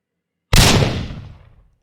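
A thrown grenade detonating in a Unity first-person shooter game, one loud sudden blast after a half-second of silence, decaying into a rumbling tail over about a second.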